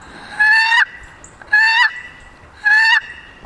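Wooden box call played to imitate turkey yelps: three separate raspy, rising notes, each lasting under half a second and spaced about a second apart, loud and close in a quiet room.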